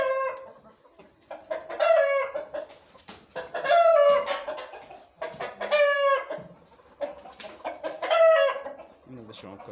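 Shamo chickens clucking with repeated drawn-out crows, several loud, close calls spaced a couple of seconds apart, with softer clucks between them.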